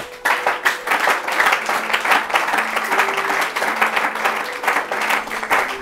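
A church congregation at a Sunday service applauding, loud sustained clapping from many hands filling the room, with a few faint voices mixed in.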